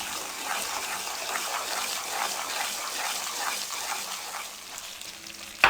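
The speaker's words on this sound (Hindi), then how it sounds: "जितनी अच्छी तरह आप सूजी को भूनेंगे उतना ही अच्छा टेस्ट आएगा इसका।" Semolina (suji) roasts in a pan for halwa, giving a soft, continuous sizzle and hiss with faint scraping from stirring, steady and fairly quiet throughout, ending with a small knock.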